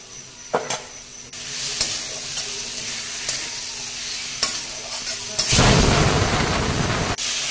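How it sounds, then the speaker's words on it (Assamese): Pointed gourd and potato pieces are stirred in a hot pan with spices, giving soft scraping and a low sizzle, then a louder, steadier hiss and crackle near the end with no talking. "ইয়াৰ পাছত ভাজি থোৱা পটল আৰু আলুখিনি মই মিক্স কৰি মছলাৰ লগত পানী দি দিম।"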